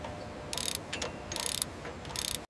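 A torque tool tightens fasteners during Boeing 787 airliner assembly, making three bursts of rapid ratcheting clicks that are close and crisp, separated by short pauses and a few lighter mechanical knocks.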